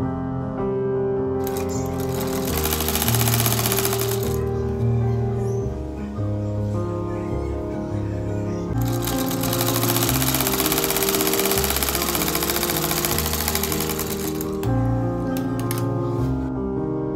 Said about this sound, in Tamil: அதே போல் அடுத்த சைடும் நம்ம தைச்சுப்போம்.